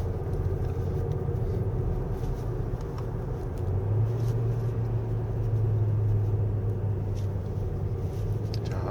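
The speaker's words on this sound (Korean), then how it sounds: "근데 이렇게 과속 방지턱을 빨리 넘을 때 하체가 조금 정신을 못 차리는 느낌입니다." A 2024 Hyundai Kona 1.6 Turbo 2WD heard from inside the cabin, driving fast with a steady low road and engine rumble and a droning tone that rises midway.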